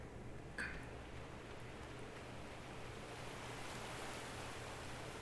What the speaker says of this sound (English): You got the sound of flowing water.